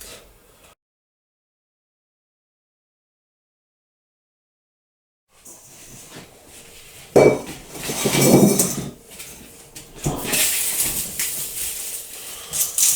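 A small pot being handled while tending a bonsai, with ceramic clinks and knocks after a long silent gap. The knocks come in irregular clusters, close and moderately loud.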